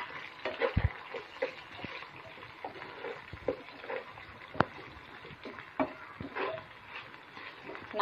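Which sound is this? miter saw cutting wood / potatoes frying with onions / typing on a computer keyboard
potatoes frying with onions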